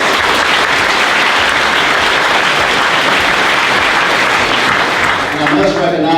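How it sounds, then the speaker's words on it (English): At a hall of fame induction, an audience gives loud, sustained applause that fills the room evenly, and a voice rises near the end as it tapers off. "Let's give them a round of applause."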